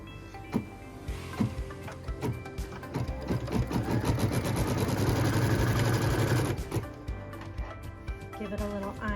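A home sewing machine stitches a quilt block, starting in short bursts and then running in a steady whirring hum for several seconds before slowing to a stop, with some handling noise around it.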